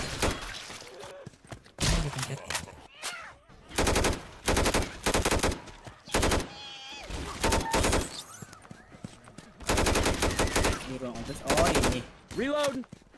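Gunfire in the zombie shooter Left 4 Dead 2 comes in loud, rapid automatic bursts of several seconds each, separated by short pauses, with players talking over the shooting.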